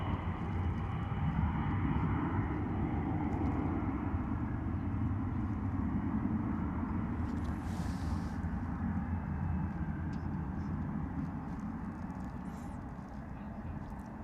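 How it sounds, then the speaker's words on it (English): A Cessna Citation business jet taking off, a steady broad engine roar holding loud and constant throughout, fading slightly toward the end, heard from the airport side with no nearby talking. "Lovely departure though, eh, from that Cessna Citation."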